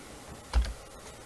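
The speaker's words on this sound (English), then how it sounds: "I'm just going to type TL." A single short burst of keystrokes on a computer keyboard while entering a restore point name on a PC, close and fairly quiet against a faint room hiss.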